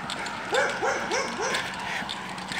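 A dog gives four quick, yipping barks in a short burst, then falls quiet over steady outdoor background noise.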